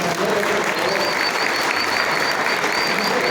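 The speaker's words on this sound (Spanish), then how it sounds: "Un aplauso para los compañeros" A gathered audience applauds the comrades after a testimony, loud continuous clapping with crowd murmur held at a constant level throughout.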